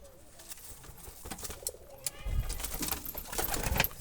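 Wild Jalali pigeon chicks at a loft in Chuknagar, Dumuria, Khulna give soft, low cooing calls, fairly faint and close, with light rustling and scattered ambient noise around them.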